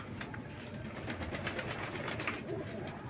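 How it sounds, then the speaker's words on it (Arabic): Pigeons bathing in coarse salt, with soft fluttering and splashing rustles and an occasional faint coo, moderately close and continuous. "شوفوا الحمام بيستحمى ازاي"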